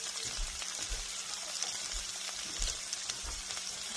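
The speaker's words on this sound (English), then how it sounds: "Stirring it around. Fry this down." Vegetables including peppers frying in a pan for a frittata, with a constant close sizzle under a series of dull, rhythmic thumps and scrapes as they are stirred around.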